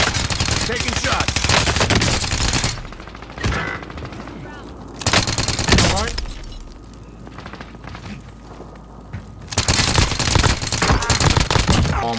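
Loud, dense bursts of automatic gunfire from a battle royale video game rattle continuously, break off briefly twice into quieter stretches with scattered shots, then resume at full intensity.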